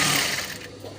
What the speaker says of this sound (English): You also sew it down.